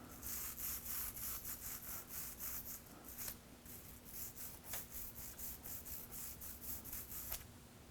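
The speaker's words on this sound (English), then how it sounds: "Now with your brush, gently clean the filter." A brush scrubs the removed filter from a Noritz tankless water heater in steady, rhythmic back-and-forth strokes, close and fairly loud, with a faint steady hum underneath and no talking.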